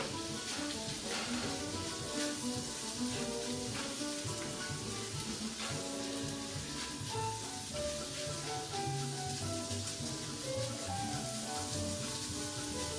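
Lean Orsini sausage sautés in a pan while it is broken into small pieces. It gives a steady, even sizzle and crackle throughout, with a tonal background layered over it.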